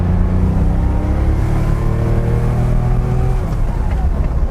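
A Porsche 911S Targa engine drones loud and close on the road, a steady rising tone as the car pulls through the revs, with no talking over it.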